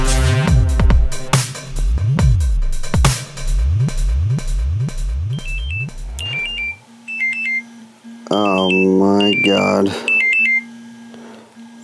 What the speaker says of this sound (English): I thought I would have been asleep when this alarm went off